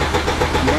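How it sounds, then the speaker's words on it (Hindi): A Mahindra Thar diesel engine cranks with its fuel tank empty and fails to start, a loud, close, rough churning that stays even throughout the short burst, with no voices. "नहीं हो रही स्टार्ट"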